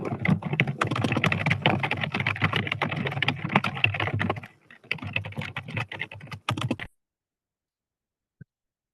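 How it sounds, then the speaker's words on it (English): Quick typing on a computer keyboard, a dense rapid clatter of key presses for several seconds, a short pause, then another burst before it stops, close and fairly loud. "I think you were typing really quickly"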